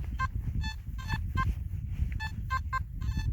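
Nokta Makro Simplex metal detector giving a faint target tone outdoors in wind, a series of about ten short repeated beeps over a low rumbling wind background.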